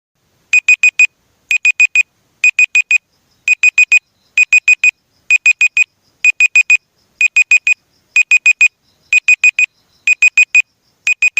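Electronic countdown timer alarm sounding in loud, high-pitched bursts of four quick beeps each, repeating about once a second with short silent gaps and no talking.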